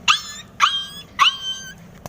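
A dog in a video game gives three sharp, evenly spaced barks or yips, each bright and close, with short quiet gaps between them.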